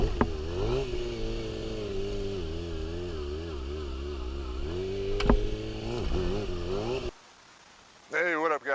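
Motorcycle engine droning with wavering pitch as the bike rides off after a clutch-controlled wheelie, fairly close and loud, then cutting out before a voice speaks.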